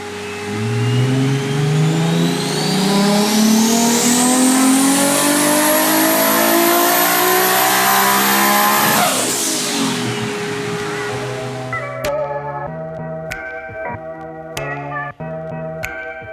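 A 3.4-litre stroker Toyota 2JZ with VVTi and big turbos roars on a hub dyno, rising in pitch through a long loud pull before lift-off, then cracks and pops as it settles to a choppy idle.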